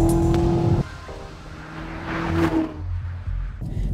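A Porsche 718 Cayman GT4 or Chevrolet Camaro ZL1 1LE sports car accelerates through tight technical track turns, its engine loud and close, revving up, dropping briefly between shifts and climbing again.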